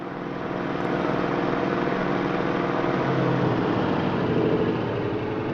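Four-engine B-17G bomber in Microsoft Flight Simulator 2024, its piston engines and propellers droning in a loud, steady, close roar that swells slightly in the first second and then holds, alone without talk.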